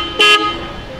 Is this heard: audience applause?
no